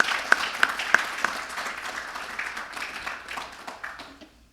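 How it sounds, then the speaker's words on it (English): A conference audience at the McCain Conference claps in a round of applause, a few sharp claps standing out at first, then a fairly thin scattered patter that fades away toward the end. "So if you could give them a round of applause."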